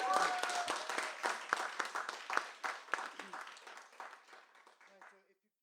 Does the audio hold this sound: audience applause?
yes